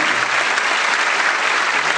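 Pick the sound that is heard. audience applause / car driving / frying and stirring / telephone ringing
audience applause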